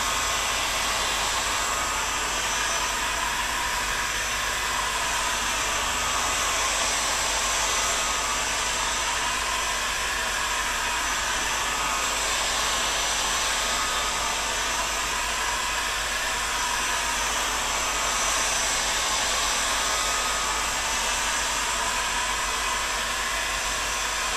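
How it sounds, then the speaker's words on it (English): A PVC-softening heat gun with adjustable heat and airflow blows a steady, loud, broadband hiss of rushing air, continuous and unbroken throughout with no talking. "I really like this new heat gun that I have. This is fantastic. I feel like a PVC ninja now. Adjustable heat, as well as adjustable airflow."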